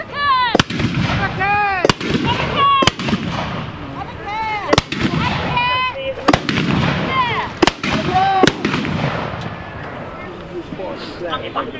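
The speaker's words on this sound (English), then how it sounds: "it's probably going to be a rolling volley with a little bit of a gap in the middle" Medieval hand guns fire in a rolling volley, about eight sharp loud reports spaced roughly a second apart with a short gap partway through, while people talk and call out over the shots.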